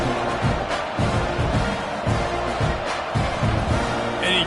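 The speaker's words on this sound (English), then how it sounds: "this crowd is feeling themselves after that last drive" Football stadium crowd roaring and cheering after a scoring drive, a dense, steady wash of many voices heard close and loud throughout.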